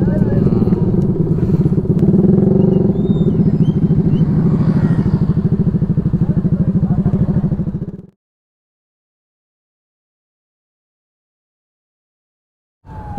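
Big bike category motorcycles setting off together at the start of the 2021 Tacloban 600 km endurance challenge, a loud dense engine roar with revving and clatter that stops abruptly, leaving silence before a brief return of sound.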